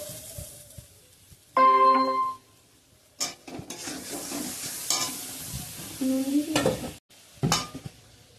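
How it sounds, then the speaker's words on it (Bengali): Turmeric and chili spices frying and being stirred in a pan, with scraping strokes and bursts of sizzling that come and go, near and fairly quiet, along with a few clinks of utensils. "হলুদ লঙ্কা, এটাকে কষাবো, কষি টষি তারপরে আলু দেবো"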